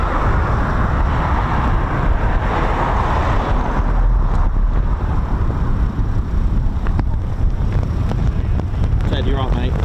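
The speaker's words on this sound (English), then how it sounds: "It's a little bit breezy." Wind buffets the microphone at the RAF Coningsby quick reaction alert airfield, home to Eurofighter Typhoon FGR4 jets, making a steady, loud, rumbling roar throughout, with faint talk underneath.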